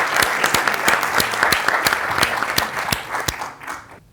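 An audience in a lecture hall at the Ateneo de Sevilla claps at a book presentation, with sharp, distinct claps in a brisk rhythm that thin out and fade to quiet at the end.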